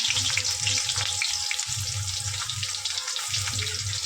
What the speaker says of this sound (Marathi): तेल आपलं गरम झालंय, तर आपण जिरे टाकूयात, तेजपत्ता टाकूया, कांदा टाकू